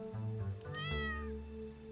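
Cat meowing in the video game Stardew Valley, two clear close meows in a row, the second drawn out with a rising and falling pitch, alone over a quiet soft background.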